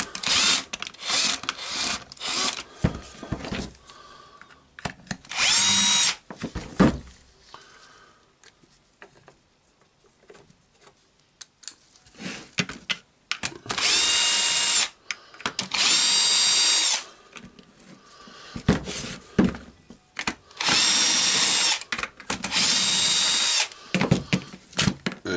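A Dewalt D25831 SDS-plus rotary hammer drill whirs in repeated bursts, each a few seconds long, separated by quieter gaps with clicks and tool handling, loud and close.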